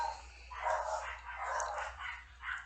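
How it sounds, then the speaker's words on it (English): Several excited dogs bark and yip in the background of a home, heard muffled through a wall or door as a string of irregular bursts over a low steady hum. "The dogs were just going crazy."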